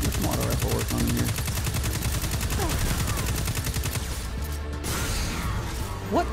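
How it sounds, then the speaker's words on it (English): Auto rifle fire rattles in Destiny 2 during a solo Inverted Spire run as a Titan, a fast, evenly spaced stream of close, loud shots that breaks off near the end, followed by impacts and whooshes. "Get some auto rifle work on in here."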